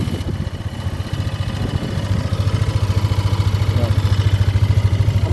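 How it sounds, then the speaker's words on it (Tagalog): Yamaha Aerox 155 scooter engine running with an abnormal sound, a close, loud, rapid knocking pulse over the idle that grows steadier and stronger through the clip. "Yung tunog na yan mga bro, hindi normal yan sa makina."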